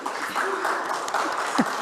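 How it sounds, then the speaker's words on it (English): Scattered audience applause at a workshop on changing the UUA's Principles, a steady patter of claps at moderate level with a faint voice briefly rising near the end. "applause is in keeping"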